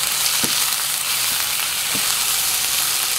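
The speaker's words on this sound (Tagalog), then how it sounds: "is maririnig mo na nagsizzle siya" Spices sizzle steadily in a Dreepor multi-function cooker, a broad even hiss running through the whole stretch, with a few soft knocks of stirring over it and no voices.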